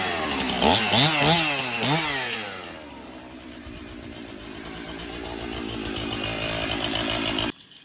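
A chainsaw cuts trees in a yard, revving in rising and falling sweeps before settling into a steady, close, loud drone that cuts off abruptly near the end; no one speaks.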